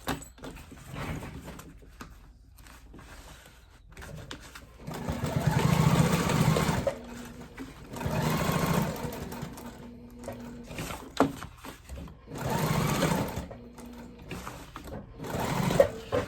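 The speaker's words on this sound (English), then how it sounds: "I'm gonna skip all of this and then I'm gonna continue sewing over here." A sewing machine stitches waterproof canvas for a crossbody bag in bursts of steady whirring, with quiet pauses between runs and a few clicks from handling the fabric.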